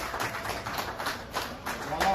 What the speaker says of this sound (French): Voilà, applaudissez, applaudissez pour